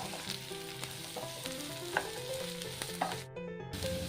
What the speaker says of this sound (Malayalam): കാരണം പടവലങ്ങ നമുക്ക് നല്ലോണം ഒന്ന് വഴറ്റി എടുക്കേണ്ടതാണ്.